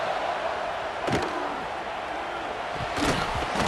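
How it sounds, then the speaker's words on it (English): Roaring home crowd at a college football game, a dense continuous wash of cheering with a couple of sharp thumps from on-field contact, under steady game ambience. "how nice is it to have the home crowd going absolutely bananas"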